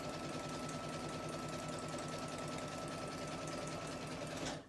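A sewing machine stitches test rows for appliqué work, a steady, dense mechanical whir running evenly throughout and then stopping abruptly at the end, with no talking.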